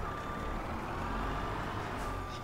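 A truck in Farming Simulator 22 sounds steady reversing beeps over a continuous engine rumble, moderately close and without talk.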